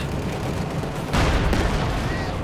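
Pak 40 anti-tank gun firing in Company of Heroes 2, a sharp blast partway through over a constant rumble of battle noise, with further booms and gunfire mixed in.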